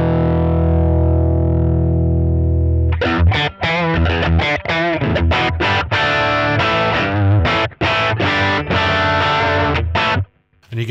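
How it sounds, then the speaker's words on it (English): Electric guitar through the drive channel of a NUX Trident multi-effects unit, a sustained distorted chord ringing out, then a run of loud, gritty, rhythmic riffs with short gaps, played alone. "you get this very responsive drive that doesn't mess with your sound too much at all"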